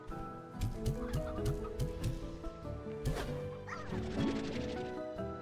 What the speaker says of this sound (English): Chickens, what are you?